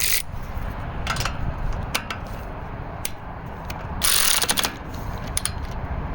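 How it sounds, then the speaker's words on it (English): A spark plug wrench ratchets a spark plug tight on a Toro "Big Red" rototiller, giving a run of close, crisp metallic ratchet clicks in short bursts with a louder cluster midway, no talking. "Tighten it down till the crush ring stops."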